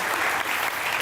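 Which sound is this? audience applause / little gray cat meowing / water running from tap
audience applause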